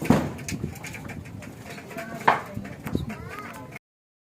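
A racing pigeon cooing at a loft in San Pablo, Laguna, with soft low coos and some wing flutters and knocks close by, while people talk quietly nearby.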